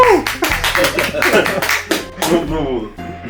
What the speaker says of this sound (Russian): Искусственные аплодисменты поставить